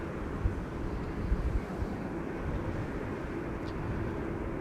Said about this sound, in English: A330-200 KLM flight 682 arriving from Vancouver.